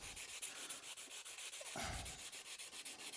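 Steady back-and-forth rasping strokes of sandpaper flattening primer putty on a metal part of a 101-year-old BSA motorcycle, a rhythmic close-up scrubbing that continues evenly throughout.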